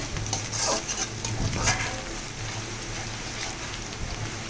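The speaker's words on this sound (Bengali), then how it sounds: "এখানে আমি চাল দিয়ে দিয়েছি এখন একটু ভালো করে কষিয়ে নেবো" Onion and rice frying together in a pan while being stirred, a soft continuous sizzle with faint scraping and the odd clink of utensils, fairly quiet and close, with no talking.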